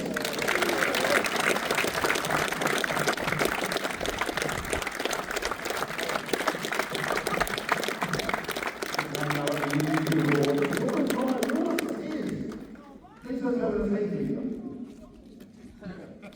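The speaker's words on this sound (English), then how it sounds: "Big round of applause, please, for Owen Forrest." An audience at a street car weekend event claps and cheers in a sustained, dense wash of applause that fades after about twelve seconds into crowd murmur and voices.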